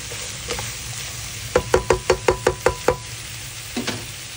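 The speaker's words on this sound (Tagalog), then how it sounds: "Gisa lang natin ng konti hanggang sa lumabas yung aroma niya" Lemongrass, ginger and aromatics sautéing in a pan, a faint sizzle under a quick run of about ten sharp utensil knocks against the pan, then a couple of scattered taps.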